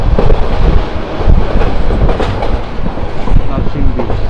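A train runs through Narsingdi railway station without stopping, its steady broadband rumble and rattling wheels loud and close throughout, with no pause in the noise.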